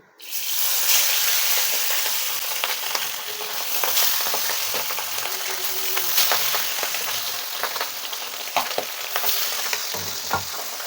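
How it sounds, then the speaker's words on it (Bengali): Pabda fish frying in hot oil in a pan, giving a loud, steady close sizzle and crackle throughout, with occasional small clicks and pops and no talking. "এবার আমরা এর মধ্যে মাছগুলোকে ভেজে নেব।"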